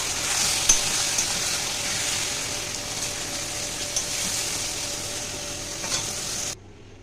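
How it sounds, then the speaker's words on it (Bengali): Fish for a prawn malai curry fries in hot oil in a pan. A steady, close sizzle and hiss with a few light stirring clicks runs for several seconds, then stops abruptly. "মাছটা ভাজা হয়ে গেছে"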